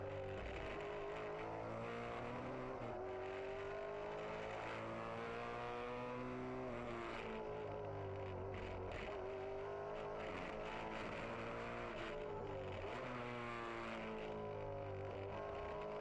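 Maserati Trofeo race cars lap the Yas Marina circuit in Abu Dhabi, their loud engines whining continuously and rising and falling in pitch through repeated gear changes and corners.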